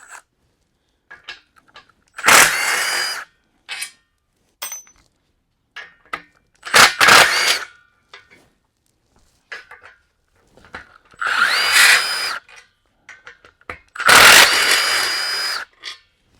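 Power drill backing large bolts out of a treadmill frame, four loud whirring bursts a few seconds apart, with clicks and handling clatter in the gaps.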